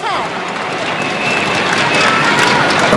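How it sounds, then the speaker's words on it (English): A large badminton crowd at the 2006 World Championship men's singles final chants support for Lin Dan against Bao Chunlai, a dense, continuous roar of many voices that swells slightly louder as it goes on. "And the chayo for Lin Dan is getting louder and louder"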